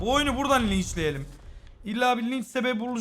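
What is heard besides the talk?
None of the usual background noises is heard.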